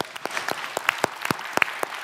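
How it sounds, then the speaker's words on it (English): Scattered, sparse clapping from a small seminar audience, with individual claps standing out as a brief, uneven patter, fairly close. "Round of applause."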